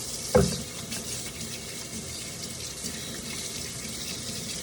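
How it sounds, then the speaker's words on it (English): A kitchen tap runs steadily into a sink while hands are washed after handling raw meat, a constant close water rush with a brief splash near the start. "Wash your hands because raw meat."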